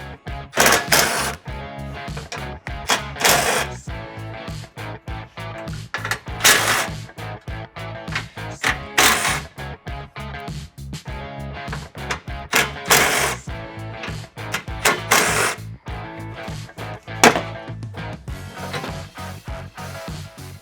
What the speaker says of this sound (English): we have these nuts holding this grille support right here that we need to take off